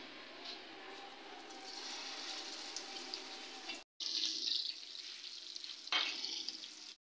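Fish cutlets fry in hot ghee in a pan with a steady, close crackling sizzle. It cuts out briefly midway, then swells with a louder burst of spitting near the end, with no talk.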